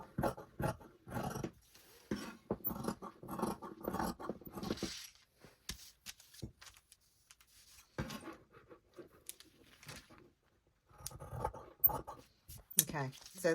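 Scissors cut out trouser fabric pieces for 19th-century trousers, giving bursts of close crunching snips and sliding scrapes with quiet pauses between, interrupted by brief handling sounds.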